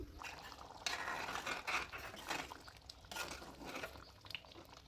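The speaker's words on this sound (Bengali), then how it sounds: "আমি মিক্সির জারটা ধুয়ে দিয়ে দিলাম জল" Water poured from a rinsed mixer jar into a pot of simmering rajma curry, a few uneven splashing pours and drips, close and moderately loud.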